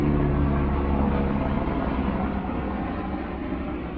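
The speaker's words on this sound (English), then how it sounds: "Helicopter going overhead." A steady, fairly loud low rotor and engine drone of a helicopter passing overhead, holding constant for the whole stretch with a slow fade toward the end, no talking.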